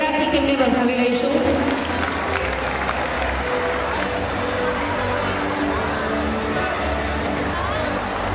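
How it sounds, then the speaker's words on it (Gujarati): An audience at a school annual function claps in a dense, continuous wash of applause, steady and fairly loud throughout, with crowd murmur mixed in. "ફરીથી એકવાર તાળીઓના ગડગડાટથી તેમને વધાવી લઈશું."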